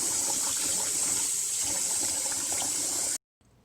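Water running steadily from a tap into a bowl of rice being rinsed, a continuous loud gushing splash that cuts off abruptly near the end, leaving a faint handling rustle.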